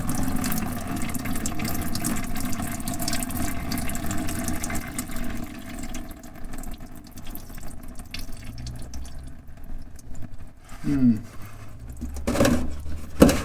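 Diesel fuel drains from the fuel filter housing of a Jeep Wrangler EcoDiesel in a steady liquid trickle and patter, fairly loud and close, thinning toward the end with a few louder splashes and clunks.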